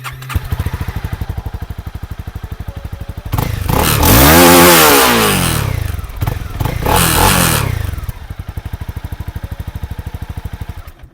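A Honda CB300R 300cc Euro 5 motorcycle engine idles steadily up close, then revs hard and rises in pitch for several seconds, dips, revs again, and settles back to a steady idle.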